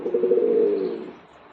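A single soft pigeon coo, low and throaty, close by and fading out, from racing pigeons.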